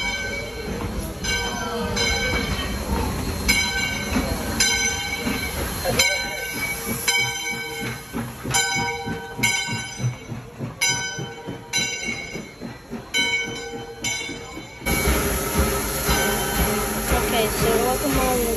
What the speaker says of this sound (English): we're gonna be seeing the train, the steam locomotive